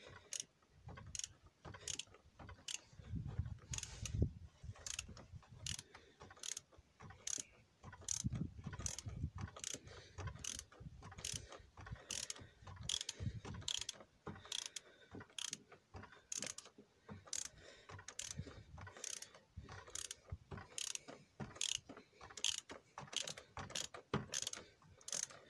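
Ratchet wrench clicking repeatedly while unscrewing a tight oil filter on a Citroën 1.6 HDi engine, evenly spaced sharp ticks close up in long runs with brief pauses between strokes.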